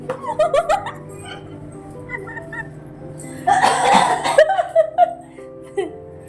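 A short burst of coughing breaks out midway, with softer voices and background sounds before and after.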